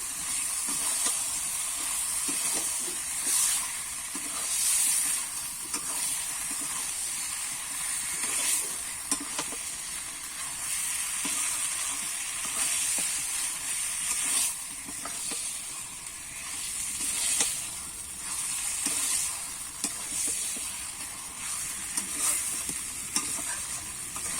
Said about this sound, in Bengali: ধুয়ে কেটে রাখা চিকেনটা দিয়ে দেবো এবারে কিন্তু আমি ভালো করে কষিয়ে নেবো